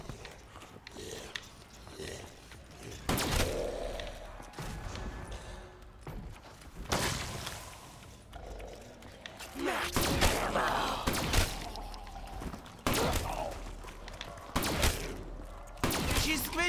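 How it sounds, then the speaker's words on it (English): Heavy, booming shotgun blasts from the player's weapon in Call of Duty Black Ops III, fired one at a time at irregular intervals amid mechanical reload clatter, with a voice talking in between. "I love this shotgun."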